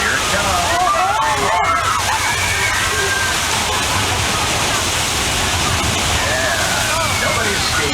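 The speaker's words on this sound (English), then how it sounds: "We're having a flash flood." Flash flood effect on the Universal Studios tram ride: loud, continuous rushing and sloshing water splashes close by, with a crowd's voices and a speaker heard over it.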